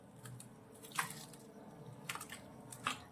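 Ridge gourd, rinsed in two changes of water, squeezed by hand: a few faint, soft wet squelches spaced about a second apart over a quiet background, with no talking.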